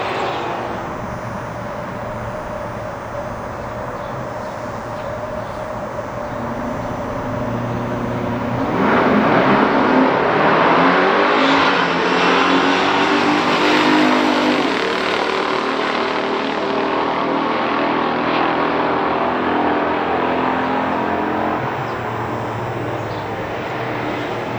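A 1969 Plymouth Road Runner 440 and a 1972 Buick GS 455 in factory stock trim launch and roar down a drag strip, a loud sustained engine blast that swells midway and then fades slightly as the cars pull away.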